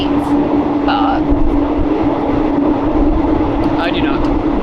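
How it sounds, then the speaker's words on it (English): Rumbling train carriage on a night journey across Thailand, a steady loud rattle and drone throughout with a constant hum, and brief voices rising over the noise. "This train ride is so dirty."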